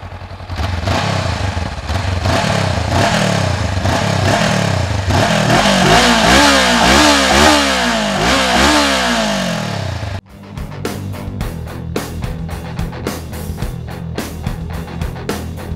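Honda CB500F 500 cc naked motorcycle exhaust while riding, a loud engine repeatedly revving up through gears for about ten seconds, then a quieter, choppy idle and clatter, close and without talk.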